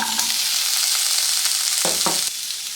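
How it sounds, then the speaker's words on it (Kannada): Ginger and garlic frying in hot oil in a pan, a loud steady sizzle throughout with a couple of brief clatters of stirring near the end; no talking. "ಈಗ ಇದೇ ಪ್ಯಾನ್ಗೆ ನಾನು ಶುಂಠಿ ಮತ್ತು ಬೆಳ್ಳುಳ್ಳಿ ಹಾಕೋತಾ ಇದ್ದೀನಿ."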